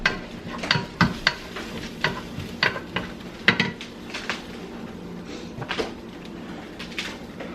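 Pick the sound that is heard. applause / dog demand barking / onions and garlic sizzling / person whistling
onions and garlic sizzling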